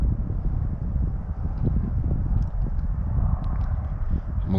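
Wind blowing outdoors at an RC plane flying field, a steady low rumble buffeting the microphone with gusty surges and no voices.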